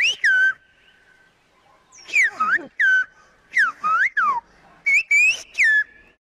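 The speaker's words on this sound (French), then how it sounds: "son langage sifflé unique, le silbo" Silbo, the whistled language of La Gomera in the Canary Islands, heard as clear, piercing whistled phrases in short bursts. Each burst rises, dips and glides in pitch, with brief silences between, and there is no talk.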